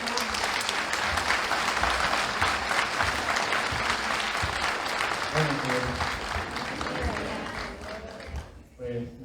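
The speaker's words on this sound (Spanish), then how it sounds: "Le damos un fuerte aplauso." Audience at a diocesan Eucharistic congress applauding, loud sustained clapping that fades after about five seconds as voices and talk rise through the hall.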